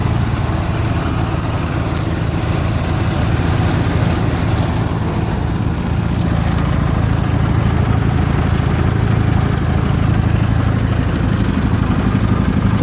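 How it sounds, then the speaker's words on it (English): A John Deere 316 lawn tractor's 16 horsepower Kohler engine idles loud and close after a cold start, a steady rough rumble with a constant metallic rattle and no pauses. "Boy, she likes to rattle, that's for sure. But that's a 16 horsepower Kohler for you."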